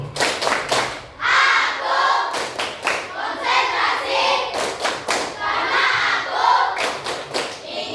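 Schoolchildren perform the 'tepuk konsentrasi' clapping chant in class, bursts of quick, crisp unison claps trading off with shouted group chanting in a steady repeating cycle.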